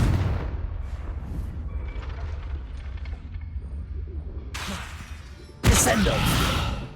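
Confringo spell cast in Hogwarts Legacy: a low rumbling effect, then a sharp whooshing burst and a loud fiery blast near the end, over game ambience.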